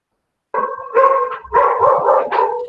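A dog barks in several loud, close bursts over a few seconds, some yelping and howl-like, after a brief silence.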